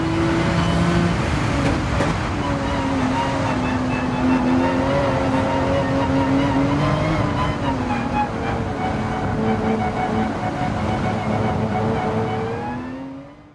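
Race car engines in Gran Turismo 7 drone and rev closely together as a pack that includes a Lexus battles for position, with steady engine tones shifting in pitch before fading out at the end.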